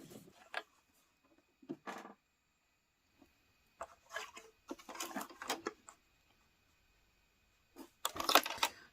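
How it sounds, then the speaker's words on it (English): Sewing machine stitching the side seam of a small zip pouch, heard in short separate bursts of rapid mechanical clatter with silent pauses between them, fairly faint and close, the last burst the busiest. "And then we'll go and sew that side just like we did the other one."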